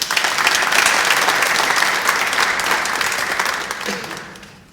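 Sustained applause from a graduation ceremony audience for a master's graduate who finished with distinction, steady and full for several seconds before fading out.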